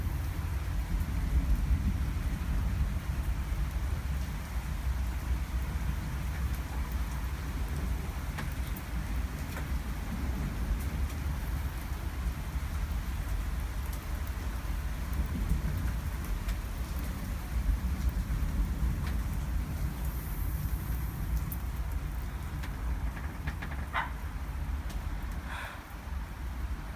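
Heavy rain pours down steadily just after a hailstorm, a dense continuous hiss and patter with a low rumbling undertone that barely changes for nearly half a minute, with no talking.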